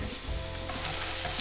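Dried chilies and cumin seeds sizzle loudly and continuously in a hot pan during taco prep, with slight stirring and no voices.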